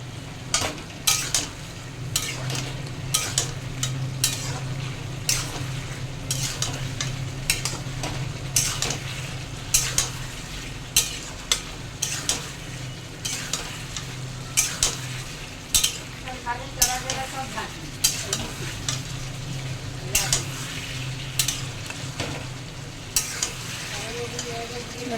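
Vegetables with potato are stir-fried in a pan, a steady sizzle under repeated sharp scrapes and taps of a metal spatula against the pan at an uneven rhythm, close and continuous.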